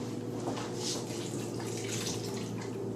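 Cold water poured from a mug into a casserole of curried chicken thighs, a steady soft trickling and splashing at close range with no talk.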